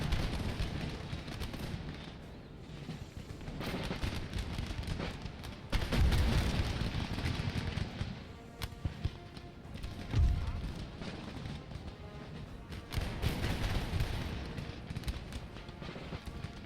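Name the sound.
musket and artillery fire in video game Empire Total War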